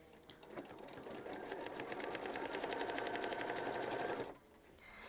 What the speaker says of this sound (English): we're going to go ahead and stitch it down as well with machine stitch step 18